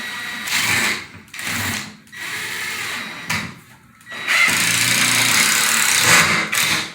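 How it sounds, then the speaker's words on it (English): Power tool fastening a board to a wall during a spa remodel: loud, whining drill bursts that start and stop several times, with short pauses between them and a long sustained run near the end. "We're fastening it to the wall."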